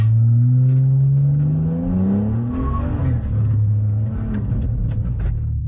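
A modified Lamborghini Huracan accelerates hard on a race track, its engine note climbing loudly and close before dropping through a shift and pulling again, with no talk.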